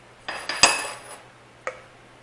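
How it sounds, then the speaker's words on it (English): Spoonfuls of fried onion dip are set into small bowls, a few crisp clinks and taps of a spoon against dishes, close and clear in an otherwise quiet kitchen. "I'm just going to put this in a couple of little bowls"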